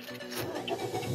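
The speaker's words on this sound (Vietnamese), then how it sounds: "Đấy, tôi cứ nổ máy lên cho quý vị bạn cùng xem này." A Toyota Vios 1.5 G sedan from 2015 with about 80,000 km starts up, a short quiet crank catching into a low, steady engine hum.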